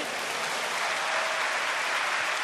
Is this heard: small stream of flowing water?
no